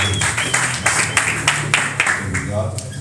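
A church congregation breaks into sustained applause, dense rhythmic clapping from many hands with accented surges, while a preacher keeps speaking over it.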